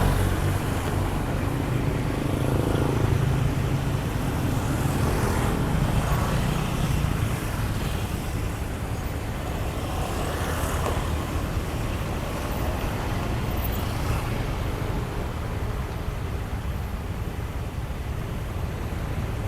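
Steady engine rumble and rushing wind noise continue throughout, like riding a motorcycle through traffic, with no talking.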